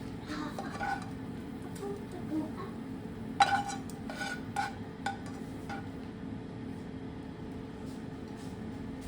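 Fried onions being stirred in a pan, with steady low sizzling throughout and several sharp clinks of a utensil against the pan.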